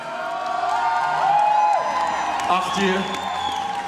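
An indoor audience at a 2017 stallion inspection final cheers, whoops and claps loudly and steadily for stallion owner Hessel, with someone talking over the crowd.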